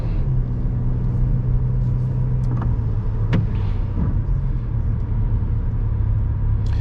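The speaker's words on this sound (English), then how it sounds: "I accelerate through the turn" A car accelerates through a turn onto a one-way street, with a steady loud engine and road rumble inside the cabin and a few faint clicks and creaks over it.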